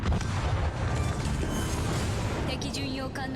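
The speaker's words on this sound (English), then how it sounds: "We only have 1 turret to fire at him" Battleship turret guns boom in a World of Warships naval battle, heavy rumbling blasts layered with continuous game noise and a voice talking throughout.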